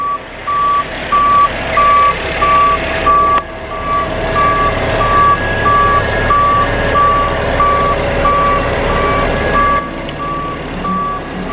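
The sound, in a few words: concrete truck reversing beeps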